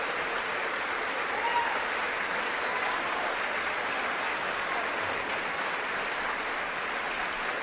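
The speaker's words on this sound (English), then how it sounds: "Republicans are there applauding." Sustained applause from Republican members in the House chamber, a broad hiss of many hands clapping that stays level and unbroken from start to finish.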